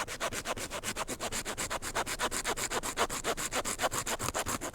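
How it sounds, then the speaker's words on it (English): A hand saw rasps back and forth through the pelvic bone of a roe doe, steady rhythmic strokes about four per second, close and dry with no talk. "just let the saw do the work until I've gone through the pelvic bone"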